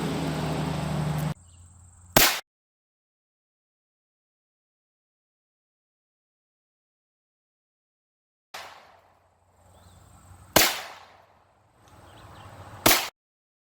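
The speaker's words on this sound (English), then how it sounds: "taking a close range shot" Close-range .22LR Aguila Sniper Subsonic rounds fired into clay: a few sharp, isolated cracks spaced seconds apart with silence between, each a short bright snap.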